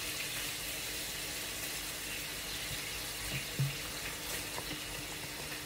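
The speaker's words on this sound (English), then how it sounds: "And then we're going to add some water." Water running steadily from a tap into a pot of rice and peas on the stove, a soft continuous hiss with a faint clunk midway and no talking.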